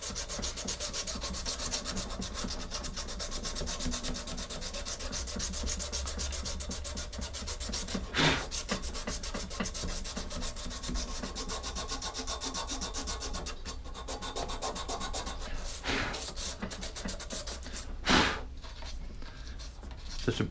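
Steady scraping and rubbing as rust is cleaned off a small metal part from a new, never-used lawn mower that will not start, a continuous close abrasive texture with a few brief louder scuffs.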